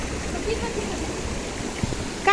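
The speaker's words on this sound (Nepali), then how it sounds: "यस्तो पानी आएर झर्ना" Water pours down a small waterfall at a fishing spot, a steady broad rushing roar that runs through the whole stretch with a brief splash near the end, close and fairly loud.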